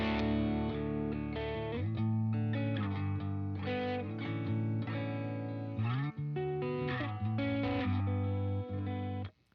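An electric guitar plays chords and riffs through a Friedman BE-OD distortion pedal set to low gain, giving a steady, mildly crunchy tone at a moderate level.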